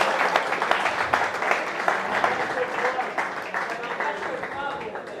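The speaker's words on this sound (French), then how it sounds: "Applaudissez ensemble, nos enfants." An audience at a stand-up comedy club claps steadily and densely throughout, a full room of applause heard close with a lively indoor feel, and speech mixed in beneath it.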